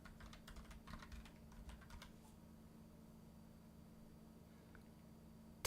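Keys clatter in a quiet, rapid burst on a computer keyboard set to the Taipo layout for the first two seconds, then only a low steady hum remains.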